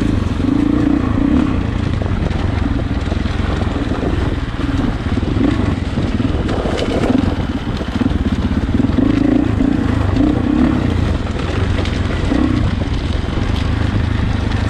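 A 2020 Husqvarna FE 501 enduro motorcycle drones loudly and steadily while overtaking on a descent, with the engine close and continuous and a faint rumble underneath.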